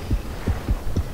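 Heartbeat from the underwater shark game Depth: four evenly spaced low thumps, each a soft double beat, loud and close over a faint background hum.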